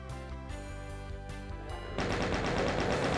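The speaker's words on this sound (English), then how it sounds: "we're just going to pick up the chain gun and carry on" A chain gun fires in the first-person shooter Doom, on the Eviternity II map Annihilate Me. A rapid, dense stream of shots starts partway through, loud over steady game music.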